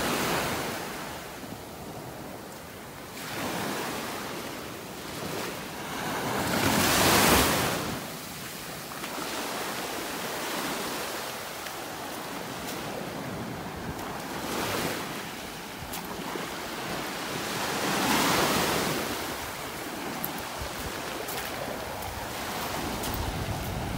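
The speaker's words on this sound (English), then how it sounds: "Little waves like this are always a nice change of pace over here on the Gulf Coast of Florida." Small waves wash onto a Gulf Coast beach in Florida at North Naples, with soft surges breaking every few seconds amid steady surf hiss and light wind buffeting, no voices.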